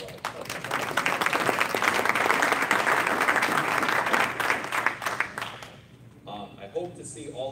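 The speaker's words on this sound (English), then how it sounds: "You can give a round of applause to yourself if you like." Applause from a convention audience at a political party business meeting: loud, continuous clapping with some crowd noise that fades away after about five seconds, followed by a short stretch of speech.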